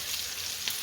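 Ginger and garlic sizzle briefly in a hot pan with spices, a close, steady hiss of frying that runs alone without talk.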